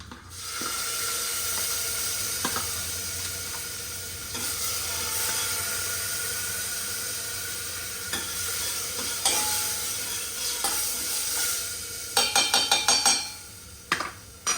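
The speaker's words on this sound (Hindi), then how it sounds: "नाउ विल ऐड टमाटर की प्यूरी" Tomato puree hits a hot pan of oil and is stirred, a continuous soft sizzle with scattered spoon taps and a cluster of sharper metallic clatters near the end.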